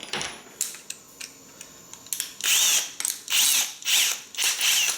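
A drill fitted with a countersink bit bores into a wooden birdhouse board, with light clicks and short bursts at first, then several loud, close whirring runs that start and stop in quick succession.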